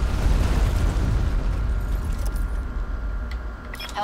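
Hellstorm missile explosion in Call of Duty Black Ops, a heavy rumbling boom that decays over several seconds, with small pops and clatter near the end, no talking.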